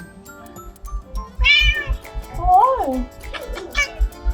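Louise, a very relaxed, floppy pet cat, gives several loud, close meows with rising and falling pitch, separated by short pauses, while a person speaks briefly nearby.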